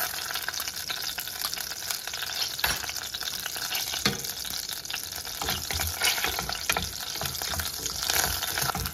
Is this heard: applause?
no